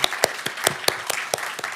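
Applause from a church congregation during a worship service, a short burst of scattered, uneven hand claps close by, without talk.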